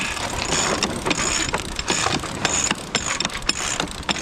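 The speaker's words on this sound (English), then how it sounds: "Start grinding." A sailing winch on a race boat is ground hard and continuously, its ratcheting pawls clicking in a loud, fast rhythm close by, with no voices over it.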